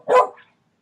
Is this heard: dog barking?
yes